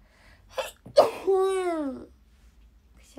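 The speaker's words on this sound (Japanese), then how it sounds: "くしゃみが出た。" A single sharp sneeze from a young woman with hay-fever symptoms, preceded by a couple of short breathy intakes, close and clear in a quiet room.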